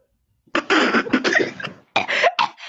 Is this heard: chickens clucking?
no